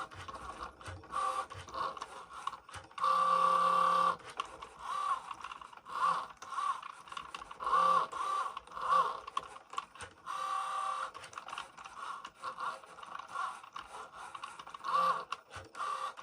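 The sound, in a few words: Cricut Joy cutting machine cutting vinyl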